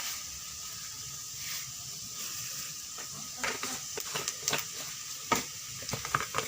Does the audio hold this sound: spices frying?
yes